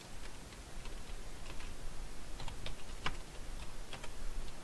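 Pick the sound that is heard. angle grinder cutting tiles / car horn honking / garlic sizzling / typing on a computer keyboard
typing on a computer keyboard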